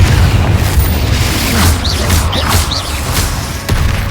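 A Confringo fire spell blast in the Hogwarts Legacy video game, a loud, dense burst of booming rumble during combat against a giant spider, with short sharp magical whooshes over continuous low roar.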